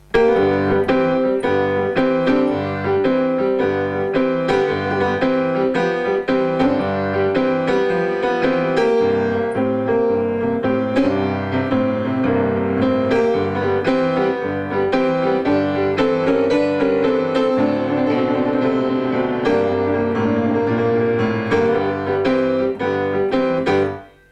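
Solo boogie woogie piano in G, a rolling left-hand bass line under bright right-hand chords, lively and continuous until it stops.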